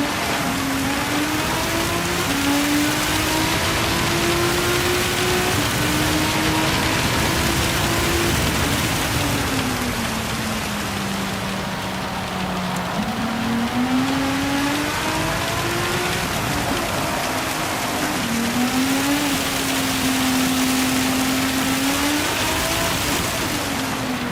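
Steady rain hisses throughout in the racing game Gran Turismo 7, a dense wash of noise, while a race car engine whines and shifts pitch underneath.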